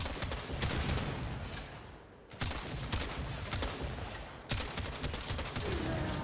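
Rapid gunfire in Warframe from a Nezha Prime loadout, dense continuous bursts of shots with a brief pause midway, loud and sustained.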